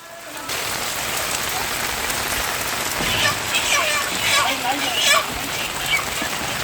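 Heavy rain pouring down on a farm, a loud and steady wash of drops on surfaces, with faint voices under the downpour.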